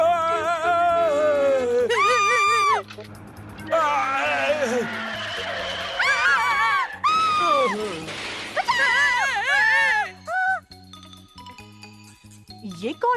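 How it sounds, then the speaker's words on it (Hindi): High, wavering cartoon screams in a Ninja Hattori episode repeat in loud bursts over music and whooshing effects, with spoken lines between them. "ये कौन चिल्ला रहा है?"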